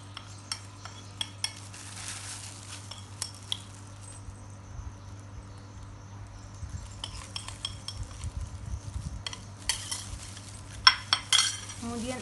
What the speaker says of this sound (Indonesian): Campurkan dengan merata, secukupnya ragi.